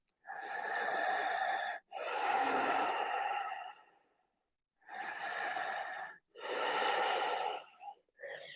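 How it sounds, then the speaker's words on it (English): Slow ujjayi yoga breathing during a sunrise practice, four long, audible throat-constricted breaths with a soft oceanic rasp, close and alone, separated by brief pauses. "Ujjayi sounding breath, 3 breaths."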